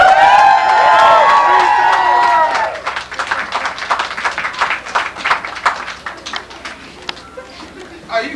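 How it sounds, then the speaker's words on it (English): An audience at a medieval-style investiture court claps and cheers, a loud burst of applause from the start that thins into scattered, uneven claps. "you can clap better than that"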